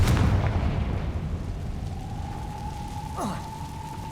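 Confringo fire-blast spell explosion in Hogwarts Legacy: a loud, deep boom at the start rolling into a sustained low rumble, with a thin whining tone and a short swoop near the end.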